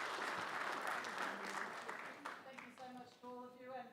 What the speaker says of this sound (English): So can everyone put their hands together for the panellists?